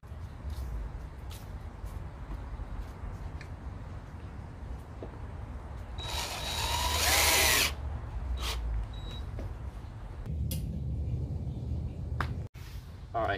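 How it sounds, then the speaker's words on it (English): Power drill driving a fastener through a 1-inch aluminum bracket into an aluminum bunk bed frame in a Mercedes Sprinter van build, a loud whirring burst midway over steady background noise. "now I'm ready to drill it in."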